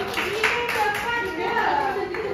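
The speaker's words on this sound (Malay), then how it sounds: "Okey, bagi tepukan." A class of children applauds in a classroom, steady dense clapping running the whole time with voices mixed in underneath.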